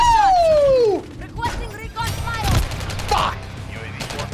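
Video game gunfire in Call of Duty Modern Warfare 3, loud bursts of shots and booms layered with game effects and a falling whistle-like tone, with no voices.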